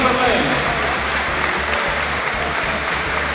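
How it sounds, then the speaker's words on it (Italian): The audience at a Miss Italia Veneto pageant selection in the Padua trade-fair hall applauds a contestant on the runway, with steady, full clapping throughout over a low background rumble. "un bel applauso per lei"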